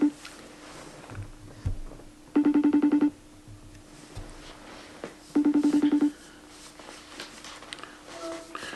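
An outgoing phone call in which two long electronic ringback bursts sound a few seconds apart, each a pulsing tone over a quiet background, with faint stray noises in between.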